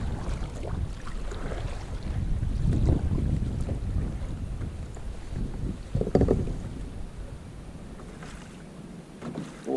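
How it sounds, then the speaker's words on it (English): A kayak is paddled off the coast of Northland, New Zealand, with soft water splashes from the strokes over a bed of wind noise and water movement, fairly quiet throughout. "We'll just paddle for a little bit here"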